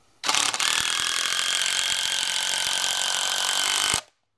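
A power driver sinks a screw into wood for a treehouse build: one loud, close, steady whirring burst with ratcheting grind lasting nearly four seconds, then stopping abruptly.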